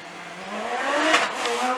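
A Westfield race car with a supercharged motorcycle engine howls up a hill climb course, its high-revving engine note rising steadily and loud as it passes close.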